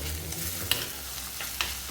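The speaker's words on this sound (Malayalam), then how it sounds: "സവാള വഴണ്ട് തുടങ്ങിയിട്ടുണ്ട്" Sliced onion with ginger, garlic and slit green chillies sautéing in a pan, a soft continuous sizzle punctuated by two crisp spatula scrapes, close and without talk.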